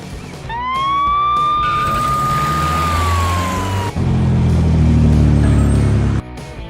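Ambulance siren rings out in a single loud, clear wail that climbs, holds and then falls, over rumbling vehicle noise, before a second tone begins and the sound cuts off abruptly.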